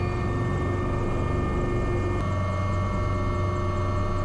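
AW189 helicopter lifting off from a ship's deck, heard from the cockpit as a loud, constant engine and rotor hum with steady tonal whine, an unbroken drone that stays level throughout.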